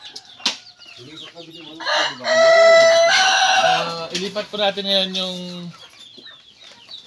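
Chickens cluck and squawk loudly up close as they are caught and moved into a breeding pen, with a burst of wing flapping mid-way, while someone talks in Filipino over the commotion.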